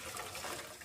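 Hot water from boiled dal pouring through a strainer, a brief, faint, steady rush of draining liquid with no voices.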